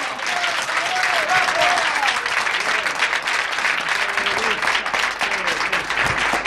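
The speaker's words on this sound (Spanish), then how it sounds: "Bueno, un fuerte aplauso, ¿no?" A large audience at a radio station's programme presentation bursts into loud, sustained applause, a dense roar of clapping with a voice speaking over it early on.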